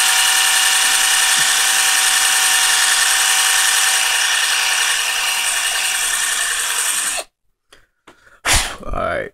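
A drill bit boring into the plastic leg joint of a Gundam model whines steadily and loudly for about seven seconds, then cuts off abruptly, followed by a few faint clicks and a short rustle.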